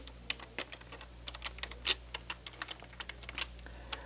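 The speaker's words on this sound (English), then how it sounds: "I'm actually trying to hold a keyboard and type at the same time" A computer keyboard is typed on while being held in the hand, giving a quiet, irregular run of light clicking keystrokes with a few louder taps, alone and fairly close.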